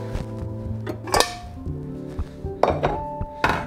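A small pan is handled among pots and dishes in a home kitchen: several clear metallic clinks and thunks ring out, with hollow knocks between and short tonal rings fading after each strike, close by and no talking.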